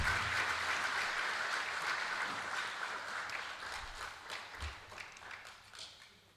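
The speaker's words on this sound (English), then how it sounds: "Another round of applause for our panelists." Audience applause for a panel at a Smart Africa Youth Chapter launch event in Malawi, a sustained round of clapping that starts full and gradually thins and fades toward the end.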